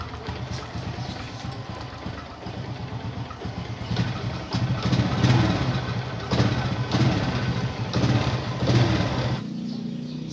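A Honda XRM 125 motorcycle, just repaired, idles steadily up close, its engine a continuous rattling putter that swells slightly midway and then settles, ending abruptly.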